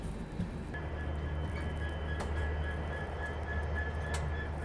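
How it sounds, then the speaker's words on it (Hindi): The generator of the Prayagraj Bikaner Express gives a steady, loud mechanical drone with a faint high whine on top. A couple of sharp clicks break in, and no one speaks. "अपनी ट्रेन का जनरेटर का यहाँ पे चालू किया जा रहा है"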